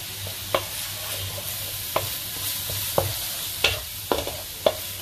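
Butter-fried food being stirred in a pan, with cashew nuts fried earlier, during cooking of maple syrup ginger chicken: a steady close sizzle carrying sharp spatula scrapes and taps every second or so, no talking.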